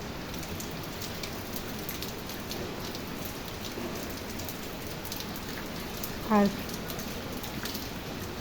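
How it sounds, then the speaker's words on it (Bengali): Steady night rain falling and pattering on surfaces outside a house, with water pooled in front, a constant even wash of sound, with a brief faint tone near the end. "এখনো পর্যন্ত বৃষ্টি হচ্ছেই।"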